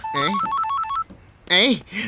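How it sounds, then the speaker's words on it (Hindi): A telephone rings with a warbling electronic ring tone, sounding between bursts of loud dialogue from a Hindi comedy film, as someone talks over and around the ringing. "भाई का फोन।"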